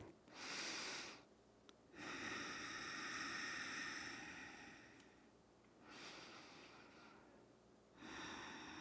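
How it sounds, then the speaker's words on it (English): Slow, deep breaths during a yoga lunge, with long airy inhales and exhales alternating in a steady rhythm, close and quiet, with no talking. "take 5 deep breaths here"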